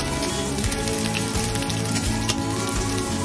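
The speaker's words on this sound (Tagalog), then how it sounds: "Ayan, ginisa na natin ang ating sibuyas." Onion sautéing in oil with chicken oil, a dense, loud and steady sizzle with a faint rain-like crackle, set against a low tonal hum.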